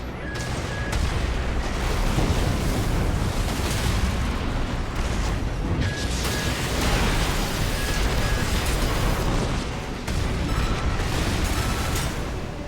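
Mech combat in Armored Core VI, with weapon fire and explosions roaring continuously and loud, heavy booms and rumbling blasts layered over each other, and brief beeping tones now and then.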